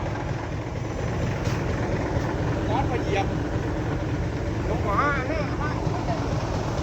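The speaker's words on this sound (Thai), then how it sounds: "รถไถแรง" A tractor engine runs steadily at close range for about seven seconds, a continuous loud rumble with a few brief higher whines near the end, and people talk over it.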